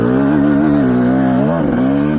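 A dirtbike engine drones loudly and close on an Idaho forest trail, holding a steady rumbling pitch with slight rises and dips as the rider adjusts the throttle.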